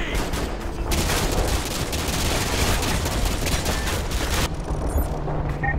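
Continuous heavy gunfire from Call of Duty Modern Warfare 2, dense rapid shots and booming impacts in a loud unbroken barrage that eases slightly toward the end, with no speech over it.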